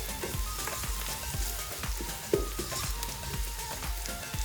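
Potato and fenugreek curry with tomato and spices sizzling and frying in a pan as it is stirred, crackling steadily with soft scraping knocks of the spoon, close and alone.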